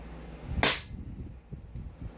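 A 2011 STI Costa Ludus airsoft pistol fires a single sharp, close crack, followed by quiet background rustling and faint low thumps.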